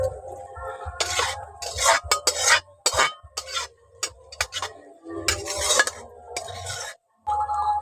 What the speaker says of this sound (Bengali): ধনেপাতা কুচি দিয়ে ভালো করে এখন এটা মিশিয়ে নিচ্ছি